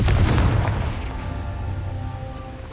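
A Confringo blast spell in Hogwarts Legacy lands with a sharp booming impact up front, then a rumbling tail and a faint ringing hum that slowly fade away, with no voices.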